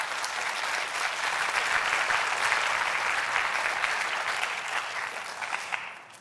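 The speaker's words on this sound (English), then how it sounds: "Let's give them another round of applause" An audience applauds the 2023 Hall of Distinction class at an evening ceremony, a steady dense round of clapping that holds evenly before thinning slightly at the end.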